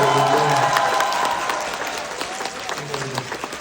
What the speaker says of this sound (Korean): 이럴 때좀 박수가 좀 필요합니다.